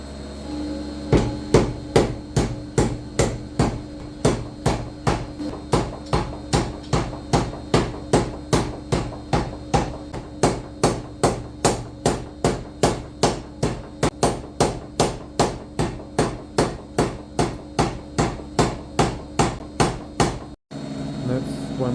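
A hammer strikes hot iron on an anvil while forging a rushlight, dozens of sharp metallic blows in a steady, fast rhythm, close and loud, stopping briefly near the end.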